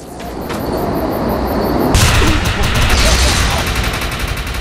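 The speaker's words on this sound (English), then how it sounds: "Shoot the projection while overcharge is activated." Overcharged weapon fire in the sci-fi shooter game Defiance: a rapid, loud burst of automatic gunfire that starts abruptly and continues as a dense, sustained volley, with game ambience underneath.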